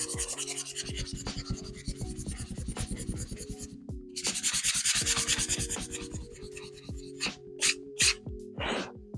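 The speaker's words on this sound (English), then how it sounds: "We'll give the holes where the jig was just a light sand." Sandpaper rubs lightly over wood around small jig holes in rapid back-and-forth strokes, a close, scratchy hiss with a faint hum beneath, ending in a few sharper scrapes and no talking.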